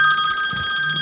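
Phone ringtone rings loudly during a studio recording, a steady bright electronic trill with a low hum underneath, no talk.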